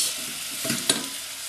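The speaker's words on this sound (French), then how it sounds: "Et je vais laisser un petit peu dorer." Onions and garlic frying in a pan for a rougail saucisses, a steady broadband sizzle with a brief stir clatter near the end, close and fairly loud throughout.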